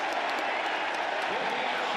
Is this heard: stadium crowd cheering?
yes